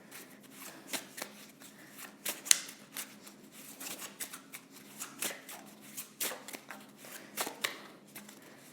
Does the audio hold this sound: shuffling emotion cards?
yes